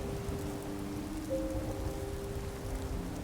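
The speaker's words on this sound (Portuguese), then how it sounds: "Claro que tá chovendo." Steady rainfall in the video game Skyrim, a constant hiss of drops on surfaces with a faint tonal game sound in the background, no speech.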